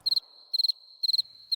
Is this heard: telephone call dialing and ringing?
no